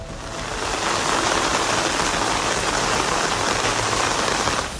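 Heavy rain pours down during floods in Saudi Arabia, a dense, loud, unbroken hiss that holds steady throughout with no voices.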